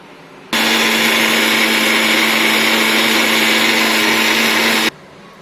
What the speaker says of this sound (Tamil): வரமிளகா, பட்டை, கிராம்பு, சோம்பு, இது எல்லாத்தையும் இப்போ நம்ம நைஸாக அரைச்சிக்கலாம்.